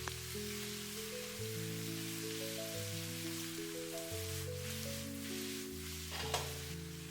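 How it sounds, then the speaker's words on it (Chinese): King oyster mushrooms stir-fried in a wok over high heat give a steady, close sizzle with scraping stir sounds throughout, under a continuous musical background. "把扣乾水分的杏鮑菇直接倒在鍋中，開大火翻炒均勻，把杏鮑菇多餘的水分炒乾"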